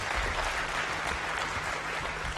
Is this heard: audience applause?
yes